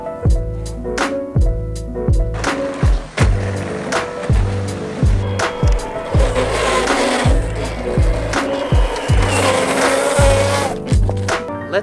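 Leiftech Summerboard electric board rolling and carving over pavement, a rhythmic series of sharp clattering knocks with whirring and gritty scraping between them, loud and close.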